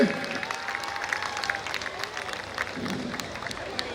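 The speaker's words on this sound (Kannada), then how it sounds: "ಜೋರಾಗಿರುವಂತಹ ಚಪ್ಪಾಳೆ ಒಂದಿಗೆ ಅವ್ರನ್ನ ದಯವಿಟ್ಟು ವೇದಿಕೆಗೆ ಸ್ವಾಗತಿಸಬೇಕು" Crowd applause welcoming a speaker to the stage at a Karlotsava event, steady dense clapping from a mid-distance audience with scattered cheering and a background murmur of voices.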